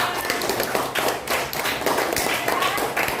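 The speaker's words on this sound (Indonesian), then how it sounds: "Tepuk tangan untuk Rahman." A group of people clapping in a steady, loud burst of applause lasting a few seconds.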